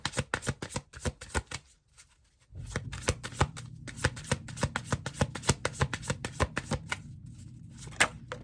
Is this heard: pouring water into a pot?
no